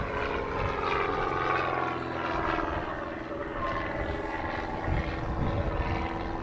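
A Slingsby T67 Firefly propeller training aircraft, a retired Royal Air Force trainer, drones steadily overhead at an outdoor airshow, its engine loud and continuous throughout.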